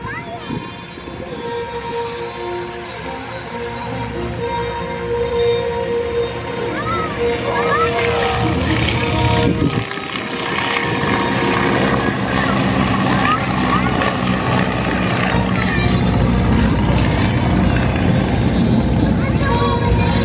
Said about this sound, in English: still worth taking an airplane ride